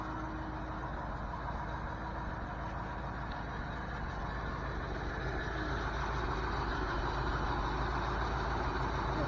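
A 1981 Ford 302 V8 with a blown motor and rod knock idles close by, a loud, continuous low engine drone that stays steady throughout with no talk.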